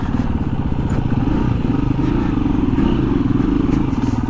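A KTM dirt bike engine drones steadily and loudly while riding a single-track dirt trail, with constant close motor roar and occasional clattering from the terrain.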